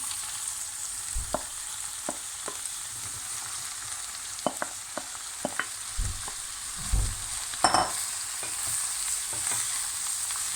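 Mushrooms and peppers sizzle and fry steadily in a pan, with occasional scraping and clinking of a utensil stirring, moderately close.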